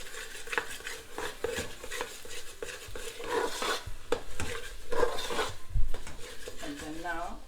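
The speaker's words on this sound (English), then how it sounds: "Give it a stir." A utensil stirs salted masala in a cooking pot for chickpea chola, making continuous close scraping and clinking against the metal with small irregular swishes.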